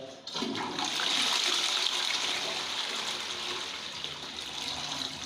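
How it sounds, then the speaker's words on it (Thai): An old toilet, previously clogged, is flushed and drains with a loud sudden rush of water that stays strong and close, then gurgles on steadily for several seconds. "เอากดสิ ลงครับ กดนานกดแช่ไว้เลย"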